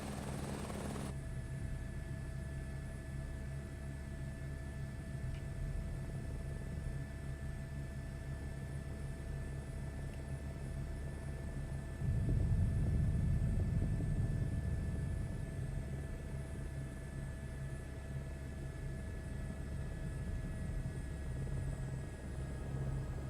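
A helicopter in Microsoft Flight Simulator 2024 sets down in a field, its steady rotor and engine drone running throughout, with a louder, rougher rumble swelling midway through the landing.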